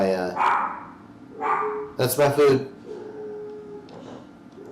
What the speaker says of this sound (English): My dog's yelling.